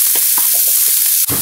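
Onion and garlic frying in a little oil in a pan over medium heat: a steady bright sizzle with soft stirring knocks, and a louder clatter near the end.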